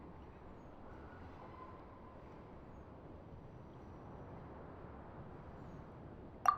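Steady low rumble of a stationary train in the Genshin Impact video game, a soft continuous drone with a faint tone and a short sharp clank right at the end.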